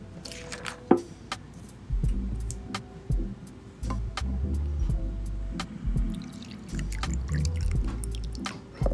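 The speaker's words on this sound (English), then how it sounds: "So I'm gonna pour some acetone." Acetone poured over oiled and unoiled emeralds, giving a close, wet trickle with scattered drips and small ticks over a low rumble, with no voices.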